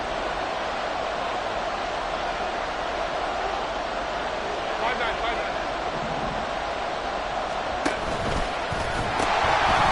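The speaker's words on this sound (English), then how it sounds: "This crowd turning up the decibel level." Stadium crowd in a football video game, a steady loud roar that holds level throughout and swells slightly near the end, with a few thumps.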